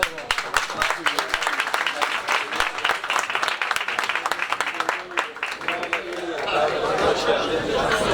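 Audience applause at a stage event in Üsküdar, a steady patter of many hands clapping under a loud voice talking, swelling into fuller, noisier clapping near the end.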